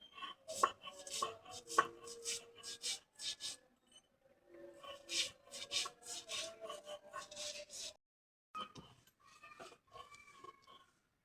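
Soaked lentils are ground with garlic and green chilies on a stone, a scraping, rubbing rhythm in bursts with short pauses, close and fairly quiet, with occasional clacks of stone.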